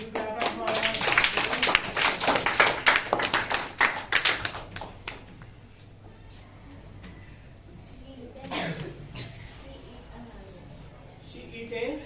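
Students in a classroom clap for a classmate, a burst of dense applause for a few seconds that thins out, followed by quiet room tone, a voice and a few scattered claps.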